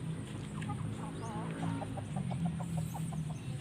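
Chickens cluck in a run of short, repeated calls close by, with some faint background noise and no clear talk.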